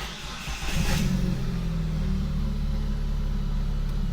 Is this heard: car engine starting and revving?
yes